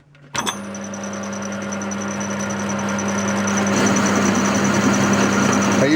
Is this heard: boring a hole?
yes